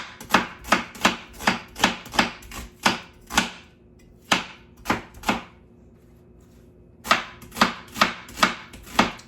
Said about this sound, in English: I'm gonna chop a whole onion because we like a lot of onion.